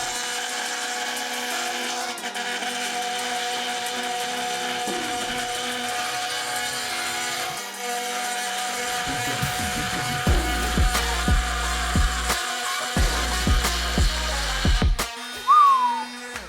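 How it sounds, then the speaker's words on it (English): An oscillating multi-tool fitted with a diamond blade cuts straight through a metal bolt, a loud sustained high-pitched buzzing grind that shifts in tone as the blade bites, then stutters in bursts before stopping. "without changing the blade, I'm going to go straight in and cut a second bolt"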